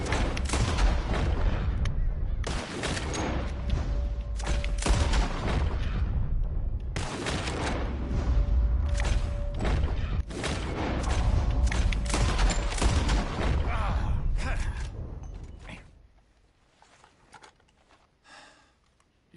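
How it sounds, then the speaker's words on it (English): Gunfire in the western video game Red Dead Redemption 2: dense volleys of rifle and pistol shots crack in rapid bursts, loud and booming, continuing for about fifteen seconds before thinning to a few scattered shots. "As soon as you see them, start shooting."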